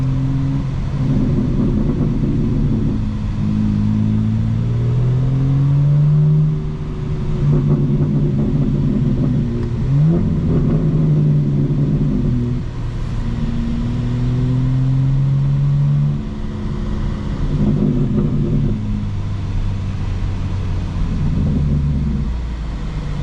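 A 2025 BMW M4 Competition driving through city traffic, its engine droning steadily with rising and falling revs as it rolls through gear changes, heard from inside the cabin as a continuous low rumble.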